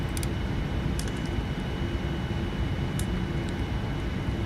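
Simulated Boeing 787-9 jet engine roar during takeoff in a flight simulator, a steady broadband rumble throughout with faint brief clicks, no talk.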